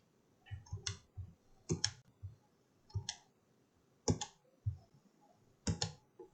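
Sharp mouse clicks close by while working in DesignSpark Mechanical CAD software, a handful of crisp single and double clicks spaced irregularly across a quiet background.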